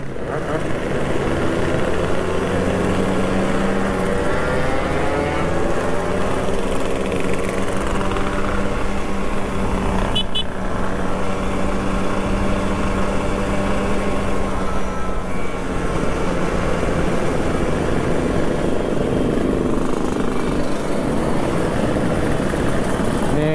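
About a hundred two-stroke motorcycles run together at a night-time rally in Makassar. Their engines make a dense, loud, continuous drone with no breaks, steady for over twenty seconds.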